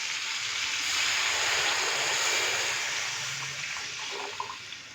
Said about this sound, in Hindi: अभी मैं इसके अंदर डालूंगा 6 गिलास पानी के।